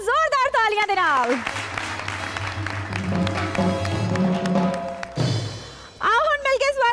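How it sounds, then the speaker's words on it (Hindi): Audience applause and cheering greet contestants arriving on a Punjabi comedy show stage, a broad steady wash of clapping blended with music, with singing voices before and after. "स्वागत करदे हां जोरदार तालियां दे नाल"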